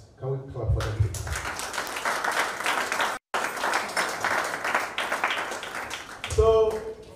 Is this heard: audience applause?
yes